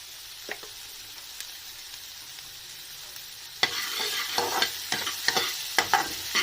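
Food fries in butter in a pan: a faint simmer at first, then a louder, crackling sizzle with stirring scrapes and clicks as the pan is worked.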